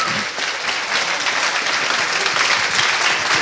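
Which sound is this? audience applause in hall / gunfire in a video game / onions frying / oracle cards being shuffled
audience applause in hall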